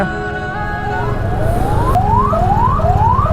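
A loud ambulance siren wails nearby, its rising sweeps repeating quickly over the low rumble of traffic.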